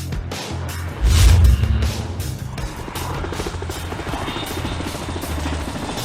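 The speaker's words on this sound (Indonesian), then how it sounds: "Helikopter di depan milik keluarga Sarding Xiao, sedangkan jet tempur di belakang, berasal dari Beijing." A helicopter flies past with a loud low rotor thump and engine roar that swells sharply early on, then settles into a steady drone.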